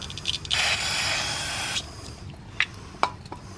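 A short aerosol spray of cleaner hisses for about a second into the throttle body gap of a Subaru Legacy, followed by a few faint clicks and taps nearby.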